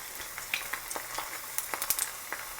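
An egg frying in a pan, letting the white crisp, gives a soft steady sizzle with scattered small pops and crackles, close and fairly quiet, with no talking.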